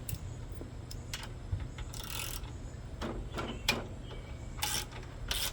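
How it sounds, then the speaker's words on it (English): A ratchet wrench loosening the head bolts on a Tecumseh small engine, with several short bursts of close, rapid clicking over a steady low background hum, no voices. "let's loosen up these two head bolts"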